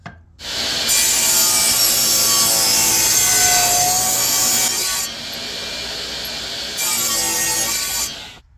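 A machine saw cutting a wooden cabinet stile for a cabinet base, a loud, close, steady rasping cut that drops briefly in the middle before surging again, then stops near the end.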